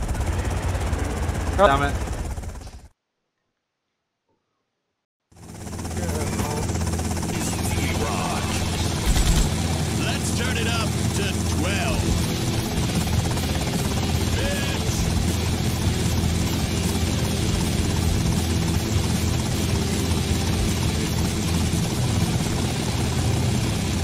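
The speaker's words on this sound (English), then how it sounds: "Helicopter?" A helicopter in the video game GTA Vice City Stories, a steady low rotor and engine drone filling most of the clip after a brief silent gap, with a voice speaking briefly over it.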